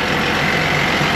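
A self-driving tractor's engine runs steadily in a farm field in Navolato, a loud, close, continuous diesel drone with a deep low rumble and no voices over it.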